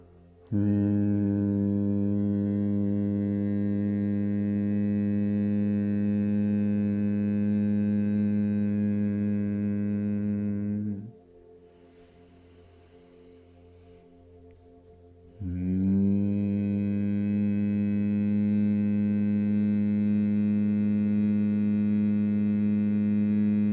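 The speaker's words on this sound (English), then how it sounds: "you exhale a humming sound" A long, steady hummed exhale of Bhramari pranayama breathing, made with the tongue on the palate, holds loud and even for about ten seconds, pauses briefly for an inhale, then resumes just as strong.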